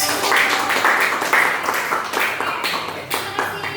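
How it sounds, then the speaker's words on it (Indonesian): A classroom audience applauds a presenting group during a teaching presentation, dense clapping that starts loud and gradually thins out over a few seconds. "beri aplaus dong untuk kelompok"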